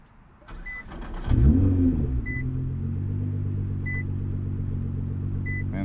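A 2012 Nissan GT-R R35 engine cranks and fires with a loud surge, then settles into a deep, steady idle rumble. Soft chime tones repeat at regular intervals.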